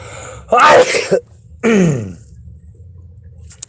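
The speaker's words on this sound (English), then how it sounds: "I'm sorry if I sneeze a lot." Two loud, close sneezes, each a sharp burst, separated by a brief pause, followed by quiet.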